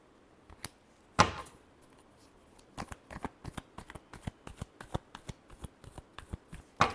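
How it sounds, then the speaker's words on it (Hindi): A deck of tarot cards being shuffled close by: one sharp riffle, then a rapid run of crisp flicking card snaps in quick succession, with no talking. "Last shuffle."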